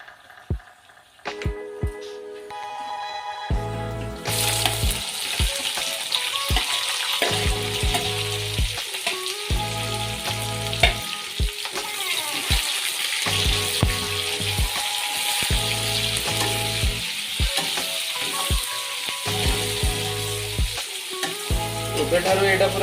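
Onions fry for a desi chicken curry, starting with a few soft clicks and pan knocks before a loud, continuous sizzle bursts in and holds, punctuated by regular stirring thumps and scrapes.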